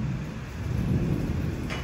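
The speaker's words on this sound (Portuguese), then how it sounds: "E a chuva tá feia lá fora" Heavy rain falls outside a closed house, with a deep rolling rumble of thunder under a steady wash of rainfall, heard from indoors.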